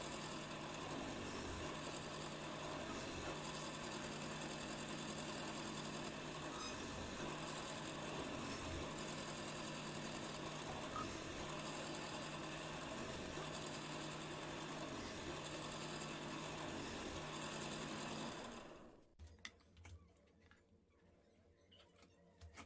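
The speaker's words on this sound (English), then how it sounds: "Now I shall cut the holes to screw the screws." A power drill bores screw holes into a wooden box, a steady close whirring drone that runs without a break for about nineteen seconds and then cuts out, leaving quiet knocks and rustles.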